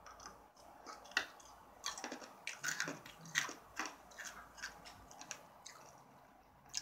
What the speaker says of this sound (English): Nope. I'm gonna chew it.